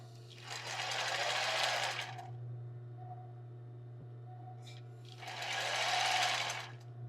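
A sewing machine stitches a tulle and lace bra in two short, even bursts separated by a few seconds of quiet, with a faint hum underneath.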